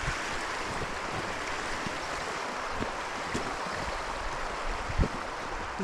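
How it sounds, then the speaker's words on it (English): A small stream winds down from the trees and emerges from a hole in the ground beneath grass sods to join a main river, giving a steady, close, broadband rush of flowing water with no talk. "Here's another little stream coming to join the main river, look."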